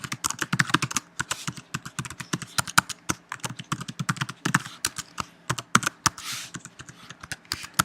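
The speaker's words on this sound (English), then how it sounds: "So I'll just quickly type one more record." Someone types quickly on a computer keyboard, a close, quiet run of sharp irregular key clicks with brief pauses, entering a record into an OpenOffice mail merge form.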